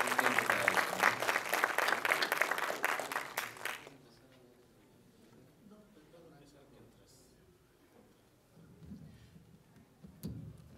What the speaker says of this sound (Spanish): recibamos con un aplauso nuevamente a Alfredo